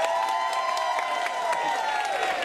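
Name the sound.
audience applause and cheering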